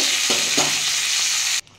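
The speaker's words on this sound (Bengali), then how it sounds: "দেখুন বন্ধুরা, আমার বকলিগুলো ভাজা হয়ে গেছে। আমি এবার তুলে নেব।" Broccoli fries in oil in a pan with a loud, close sizzle and a couple of stirring scrapes, cutting off abruptly near the end.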